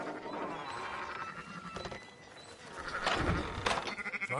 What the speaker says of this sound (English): Fine sheep.